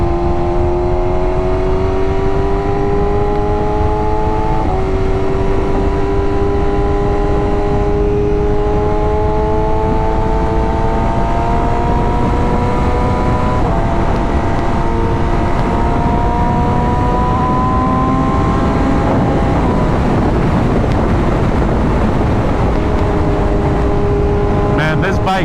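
A BMW M1000RR motorcycle cruising on a highway, engine droning loud and steady with gear shifts shifting its pitch, under heavy wind rush and no talking.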